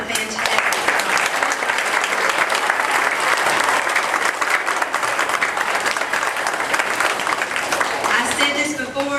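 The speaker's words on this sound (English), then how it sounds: "students, I want you to give yourself a great big round of applause." Loud, sustained applause from an elementary school speech event audience for the students, dense clapping with crowd noise and some voices mixed in, continuing steadily throughout.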